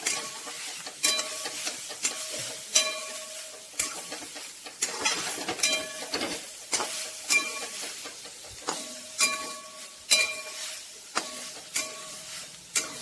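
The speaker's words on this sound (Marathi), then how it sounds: "किसलेले गाजर टाकून घेतली. ते हलवून घेतले. गाजर छान 5-6 मिनटं हलवून घ्यायचे." Grated carrots for halwa fry in a pan and are stirred with a spoon, a moderate sizzle punctuated by regular scraping strokes and light clacks against the pan, steady and close.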